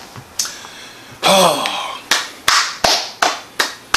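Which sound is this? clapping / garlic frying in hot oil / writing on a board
clapping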